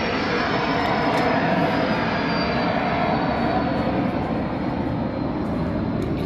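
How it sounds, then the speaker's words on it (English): A steady, broad roar of an aircraft engine fills the whole stretch, loud and unbroken, with no talking over it. "there's a plane going overhead,"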